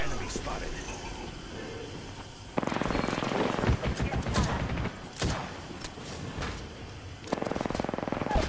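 Rapid gunfire in the shooter game Apex Legends rattles out in several loud, dense bursts aimed at gas, broken by short pauses, with voices talking over the shooting.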